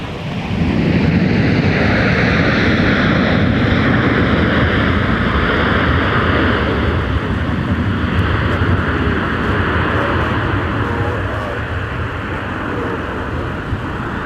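Aircraft rolling along a taxiway at a busy airport during winter deicing operations, a loud sustained jet engine roar near the listener that slowly shifts in tone and fades slightly toward the end, with no talking.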